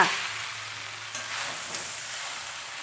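Quick biryani rice being stirred in a hot pan: a continuous hiss of frying with a couple of soft scraping turns of the spoon, close by and with no talking.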